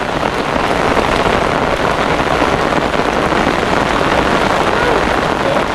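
Heavy typhoon rain pours down nonstop in a loud, dense roar, with faint voices under it.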